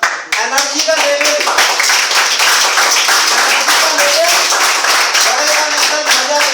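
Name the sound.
audience applause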